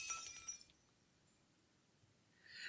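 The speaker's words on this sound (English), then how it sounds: "we hear the shatter of glass" Glass shattering in the visual novel game Cinderella Phenomenon, a bright crash with tinkling shards at the start, a quiet stretch, then another burst of breaking glass at the end.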